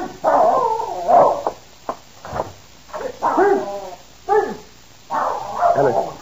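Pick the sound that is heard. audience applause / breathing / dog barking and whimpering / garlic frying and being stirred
dog barking and whimpering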